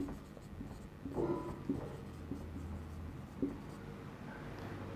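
Pen or marker writing during a lecture on the circulatory system, faint scratchy strokes in short bursts over a low steady room hum, with no talking.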